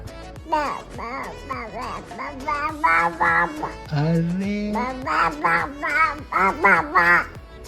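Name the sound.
child imitating a bird call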